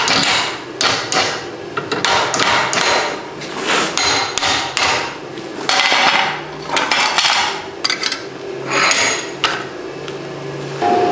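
Steel rebar being upset by hammer blows on an anvil for making tongs, a long series of sharp ringing metallic strikes in quick irregular bursts with short pauses, close and loud with no talk.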